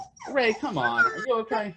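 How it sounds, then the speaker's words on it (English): A pet dog whimpers and yips in high, wavering whines close by, mixed in with a person speaking gently to it. "you can hear my dog right now."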